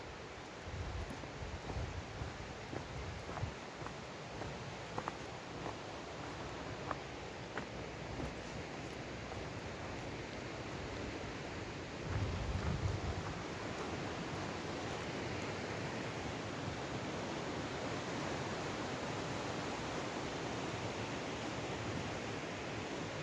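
A river near the Chavín ruins in Peru rushes steadily, a broad, even wash of moving water heard up close and continuing without pause, with a slight swell midway and no voices.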